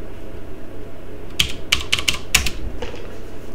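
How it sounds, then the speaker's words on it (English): Several quick clicks and taps on a computer keyboard as a password is typed, arriving in two short bursts over steady low background hum, fairly close and with no talking. "type your password,"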